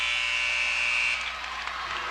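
Basketball scoreboard buzzer sounding at halftime of a high school game between Wyandotte and Shawnee Mission East, a loud, steady electronic tone holding about a second before cutting off into gym noise.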